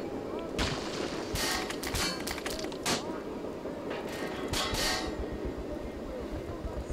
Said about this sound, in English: there's just random bullets going out to get that feeling of war